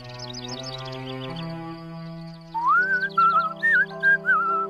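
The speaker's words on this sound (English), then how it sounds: "You always did whistle a good tune." Cartoon character whistling a lilting tune, clear bright warbling notes rising and sliding over a soft animated-show music bed, the melody alone and close without any talk.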